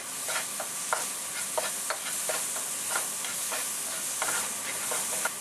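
Sazon seasoning with culantro and achiote being stirred into a frying pan while making corned beef with potatoes, a scraping spoon rhythm over a steady soft sizzle, close and fairly quiet.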